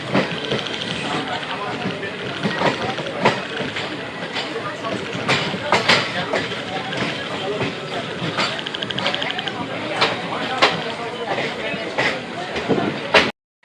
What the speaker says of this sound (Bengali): ট্রেন এসে পৌঁছেছে এখন দলগাঁও স্টেশনে